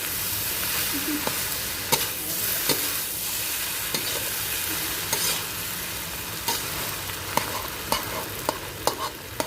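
Shrimp fried rice stir-fried in a pan for children, a steady sizzle with repeated sharp scrapes and knocks of the spatula against the pan, close and alone without talk.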